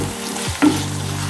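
Onions cook in oil in a pan for a dry fish kuzhambu, with a short burst of sizzling and a single stir or scrape over a low steady hum, close by.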